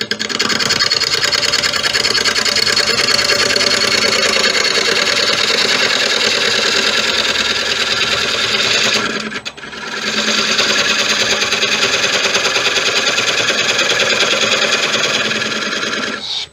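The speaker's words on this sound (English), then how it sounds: "I want to run gouge across the base to make sure it's flat." Wood lathe spinning a 15 inch white oak bowl as a gouge cuts across its flat base, a loud steady whirring scrape that runs continuously, dips briefly near the middle, then resumes.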